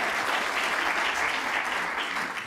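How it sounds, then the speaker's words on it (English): Conference audience applause at a policy dialogue event: an even wash of many hands clapping, sustained without a break and without clear speech above it. "Another round of applause for Daniel."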